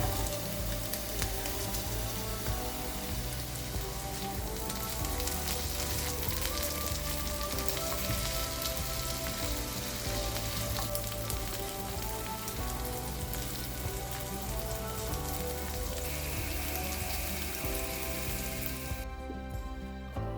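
Chopped pepper fries with onion and garlic in a pan, giving a steady, dense sizzle and crackle that continues evenly before cutting off abruptly near the end.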